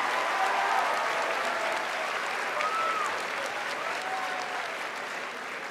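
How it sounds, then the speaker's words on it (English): Model UN students applaud themselves at the author's urging, producing steady, dense clapping from a large room that fades slightly toward the end. "Go ahead, applaud yourself."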